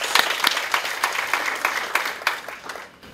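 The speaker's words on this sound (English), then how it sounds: "Please give them a big round of applause." Applause at the Mrs Africa 2022 awards for the event's photographers: a crowd's clapping with distinct sharp claps standing out in a rough rhythm, fairly close and loud, tapering off near the end.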